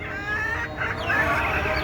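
Desi chickens on a rooftop coop make a continuous murmur of soft clucks and chirpy calls, close and moderately loud, with no voices over them.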